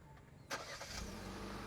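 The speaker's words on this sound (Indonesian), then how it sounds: "Mesin nyala." A Kia Carens 1.5 started by remote engine start: a sudden crank-and-catch burst after a moment of quiet, then the engine settles into a steady nearby idle with no talk.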